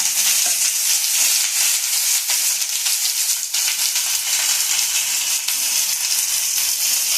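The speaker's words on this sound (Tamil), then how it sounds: "முதல்ல வெங்காயத்தை போட்டு துவக்குவோம்" Onions frying in hot oil for kaara chutney produce a loud, continuous crackling sizzle that runs unbroken from start to finish, close up and with no voices.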